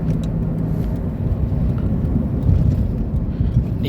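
Honda Elysion automatic minivan cruising at high speed, with a steady, loud low engine and road rumble plus wind buffeting that swell slightly but never let up.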